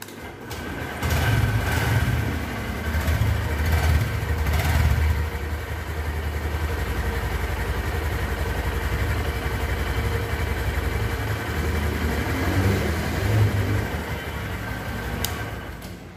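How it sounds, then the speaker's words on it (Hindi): A 2023 Honda SP 125 E20 BS7 motorcycle starts and settles into a steady idle, its exhaust putting out a continuous low, even thrum at close range with no talking. "बाइक को स्टार्ट करके देखते हैं बाइक का एग्जॉस्ट नोट कैसा है"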